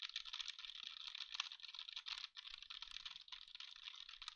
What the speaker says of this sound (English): it's definitely picking up the keyboard clicks